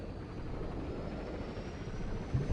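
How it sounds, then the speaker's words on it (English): Helicopter in the video game Delta Force Land Warrior lifting off, a steady low rotor and engine drone holding level throughout with a slight rise near the end. "Looks like our helicopter's taking off when now."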